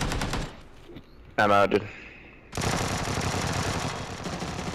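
Gunfire in PUBG: Battlegrounds, a Vector submachine gun and an M24 sniper rifle. A short spoken remark comes first, then sustained rapid automatic fire runs loudly to the end.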